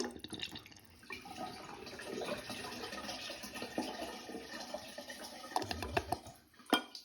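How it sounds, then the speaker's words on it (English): A wall-mounted toilet with its trapway at the back flushes in a steady, fairly loud wash of rushing water that runs for several seconds and ends with a sharper gurgle near the end, with no voices. "So anyway, we'll give this a flush"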